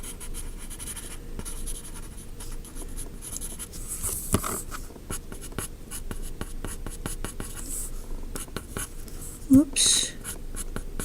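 A number 2 HB Ticonderoga pencil scratches steadily across paper while sketching a horse, a continuous close scraping texture with brief pauses, under a quiet voice talking.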